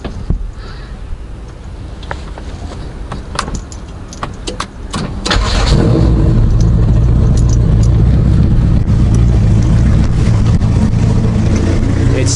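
Honda car with a newly installed exhaust, with clicks and handling noises at first, then the engine starts around the midpoint and settles into a loud, low, steady idle rumble up close.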